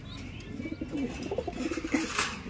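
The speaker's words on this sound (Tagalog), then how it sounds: "Galing ng young bird na to ah." A young black check pigeon coos in low, soft murmuring pulses at close range, with faint rustling behind it and no talking.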